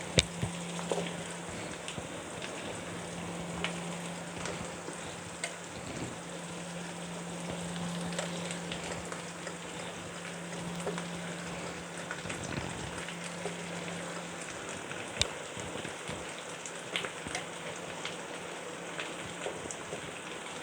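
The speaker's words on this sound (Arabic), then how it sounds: "هنزل هنا بالدبابيس واحده واحده." Chicken drumsticks frying in ghee with onion give a continuous soft sizzle and crackle with scattered pops, close and fairly quiet. A low steady hum sits underneath for most of the time, and no one speaks.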